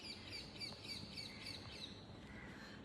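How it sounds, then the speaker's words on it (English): Birds chirping outside an open window, a quiet run of repeated high squawks and tweets at a steady pace, heard from some distance over faint background hiss. "I can hear the chirping of the birds."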